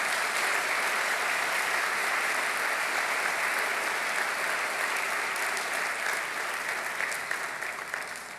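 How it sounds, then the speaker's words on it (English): A large conference audience applauds in a continuous, even wash of clapping that holds steady and fades slightly toward the end, with no voices over it. "please give them a round of applause"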